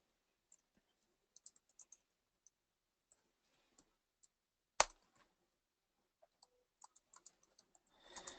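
Sparse keyboard typing during a webinar, scattered key clicks with one sharper clack midway and a quick burst near the end, quiet and close.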